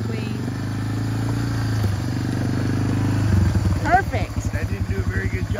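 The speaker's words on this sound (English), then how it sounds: "Just go to the nearest pond and drive it around and around and around and around." ATV four-wheeler idling and then revved as it is driven in a muddy pond, a low close engine drone that turns into pulsing throttle bursts, with a voice speaking over it partway through.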